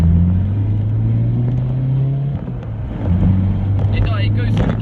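A 2004 Seat Ibiza FR with a pre-mapped ECU accelerates and climbs through the gears. A steady engine drone rises in pitch, dips at a gear change near the middle, then pulls again. The sound is moderately loud and continuous, with no talk.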